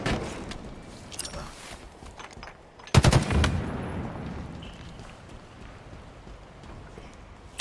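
Automatic gunfire from a Halo Infinite ranked doubles match: a sharp, loud burst of rapid shots near the middle, rising over a quieter backdrop of game noise and distant shooting.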